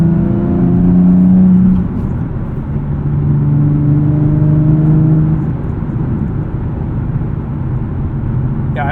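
A 2012 Nissan 370Z with a six-speed manual pulls hard from inside the cabin, its engine note rising in steady sweeps, dropping at a shift and climbing again under a constant road rumble.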